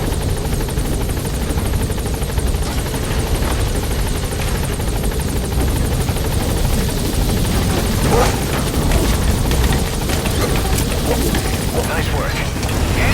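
A helicopter touches down in Metal Gear Solid V, its loud, close rotor and engine roar filling the whole stretch with steady thumping wash and bursts of game noise, while a voice speaks over it.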